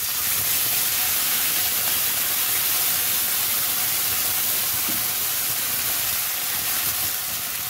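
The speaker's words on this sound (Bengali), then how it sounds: "তো আমি একটু জল দিয়ে দেবো" Water splashed onto sticking vegetables in a hot pan sends up a loud, continuous steamy hiss that fills the whole span and barely changes.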